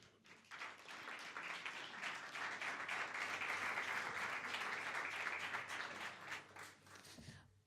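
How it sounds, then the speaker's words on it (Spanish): An audience claps warmly for a performer introduced at an honorary doctorate ceremony, a sustained wave of applause that swells quickly and holds steady for several seconds before tapering off. "La recibimos con un fuerte aplauso."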